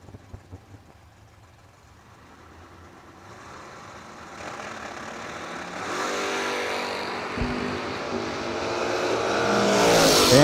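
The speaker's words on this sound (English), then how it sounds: "Jason Nagley in the Camaro" A Camaro drag race car at a bracket nationals event, its engine rising from a low idle into a loud, building roar that swells steadily over about ten seconds.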